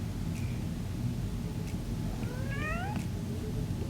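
A house cat meows twice, short rising calls near the end, over a steady background hum, with no speech during the cries.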